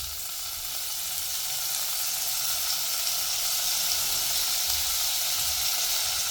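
Stuffed green chillies sizzle steadily in a pan after a sprinkle of water, a loud, even frying hiss close by with faint stirring underneath and no voices.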